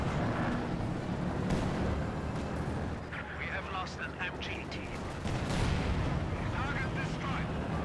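Rocket artillery barrage from a Soviet Katyusha in the Company of Heroes 2 battle game, a dense, continuous roar of launches and explosions with scattered gunfire, with a voice talking over the top.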